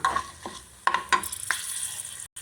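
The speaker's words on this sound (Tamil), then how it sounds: "மிளகா வத்தல் ஒரு அஞ்சு மாதிரி மிளகா வத்தல் போட்டிருக்கிறேன் அதையும் இதோடு வறுத்துறேன்" Dried red chillies frying in oil with asafoetida for Palakkad-style pulikari, a light sizzle broken by several sharp spoon clinks and stirring scrapes against the pan, ending in a brief cutoff.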